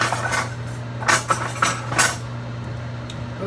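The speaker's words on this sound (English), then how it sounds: "So we're gonna actually spoon out the shrimp." Cooked shrimp being spooned out of a pot of seafood with mussels, a few sharp metallic scrapes and clinks of the spoon against the pot over a steady low hum.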